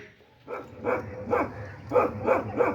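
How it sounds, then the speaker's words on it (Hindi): Dogs on a town street in Kasur bark in a run of about six sharp barks at a moderate distance, spaced in an uneven rhythm, with no talking over them. "यहाँ देखिए कुत्ते भौंक रहे हैं सामने"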